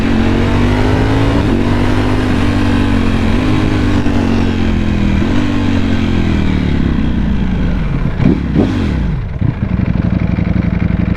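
Ducati Panigale V4S sport motorcycle engine revving loudly and steadily up close, with a smooth rising and falling drone and a sharp throttle blip near the end, no talking.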